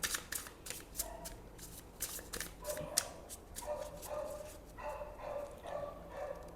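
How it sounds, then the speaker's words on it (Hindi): A dog barks faintly in the distance several times, with the quick flutter of a tarot deck being shuffled close by. "ये कौन सा डॉग भौंक रहा है?"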